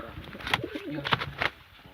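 Soft cooing high-flying pigeon calls, a few low murmuring phrases close by, with some rustling and a brief higher bird note mixed in.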